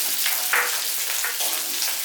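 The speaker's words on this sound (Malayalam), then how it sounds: "ഈ അരി വറക്കുമ്പോൾ സൂക്ഷിക്കണം, ചിലപ്പോൾ ഇതിനെ പൊട്ടും" Rice frying in hot oil in a pan, a steady bright sizzle with a few soft pops and crackles rising out of it, close and continuous.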